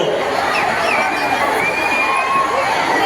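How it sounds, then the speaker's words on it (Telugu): A large, excited crowd shouts and cheers continuously, with rising and falling whistles cutting clearly above the dense roar of voices. "ఈలలు కేకలు చప్పట్లు డ్యాన్సులు చేస్తున్నారు"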